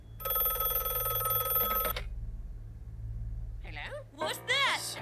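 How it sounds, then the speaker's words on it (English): A telephone bell rings steadily for about two seconds in a Don't Hug Me I'm Scared scene, over a low rumble, then stops; brief voices follow near the end. "That was the phone."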